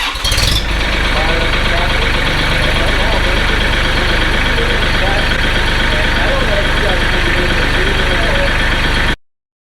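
A diesel tractor engine cranks and catches after glow plugs warm up, then runs at a steady, loud, rattling idle close by before cutting off abruptly.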